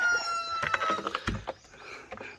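Rhode Island Red chickens clucking and calling in their coop, a few short close clucks and squawks in quick succession with no voices.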